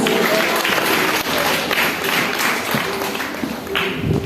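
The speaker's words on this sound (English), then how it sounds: "So give them a round of applause." A school graduation audience applauding graduating students at Tagore Memorial Secondary School, a steady dense wash of many hands clapping throughout, loud and continuous in a large room.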